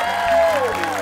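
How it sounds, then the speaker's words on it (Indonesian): Applause from a studio audience on an Indonesian TV game show, welcoming guest stars Pamela and Melati, a loud brief burst of clapping and cheering mixed with a host's voice. "tepuk tangannya dulu"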